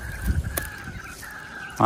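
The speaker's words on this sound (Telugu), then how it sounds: "తెల్లారిపోయింది, పక్క పంటి పక్షులు వస్తున్నాయి, మీరు చూడొచ్చు" Honking, goose-like bird calls at daybreak outdoors near a weir, a few loud cries early on over a faint steady background call, then fading.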